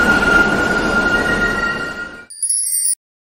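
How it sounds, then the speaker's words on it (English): Subway train running loudly with a steady rolling roar and a faint high wheel whine, fading out and then replaced by a short high electronic chime. "Subway."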